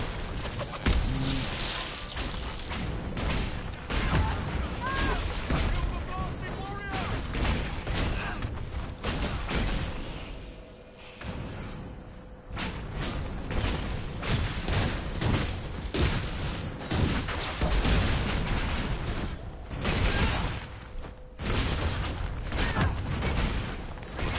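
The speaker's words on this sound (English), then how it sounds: "These are all my fire spells looking for a new enemy to hurt." Fire spells in a video game, set in an apostate stronghold, burst and explode in a steady, dense barrage of booms and thuds, loud and continuous with one short lull midway.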